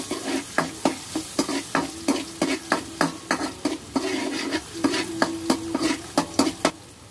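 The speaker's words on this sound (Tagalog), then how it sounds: "Yun nga't nagisa na nga ako ng sibuyas." Diced onion sautéing in a pan for pancit guisado, a steady close sizzle and fry broken by a regular rhythm of spatula stirs and scrapes against the pan, with no talking.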